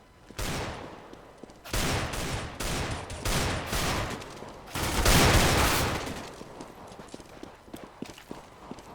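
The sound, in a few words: rifle and SMG gunfire in a video game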